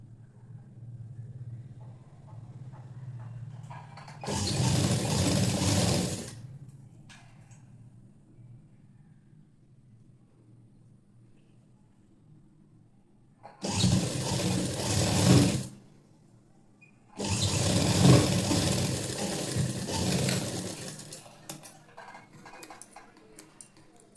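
A sewing machine stitches a blouse in three loud mechanical bursts, the longest running about four seconds, with quiet room pauses between them.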